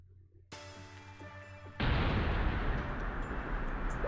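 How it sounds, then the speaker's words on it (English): A truck blows up in the video game Blue Archive: a sharp impact, then a loud, sustained roaring blast of broad noise that rumbles on without fading, following a tonal musical lead-in. "Why did the truck blow up out of nowhere?"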